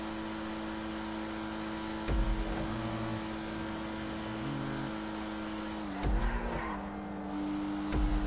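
An Ocelot Pariah sports car races in GTA 5 with a steady, droning engine, and several sharp gear shifts break the tone with dips and rises. It plays loud and close, with no talk.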